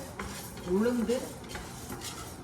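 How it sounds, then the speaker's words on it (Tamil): Urad dal roasting in a pan, with a spoon scraping and stirring against the metal in a few soft strokes and faint light sizzling underneath, fairly quiet overall. "உளுந்த வறுக்கிறோம். உளுந்து வறுக்கணுங்க."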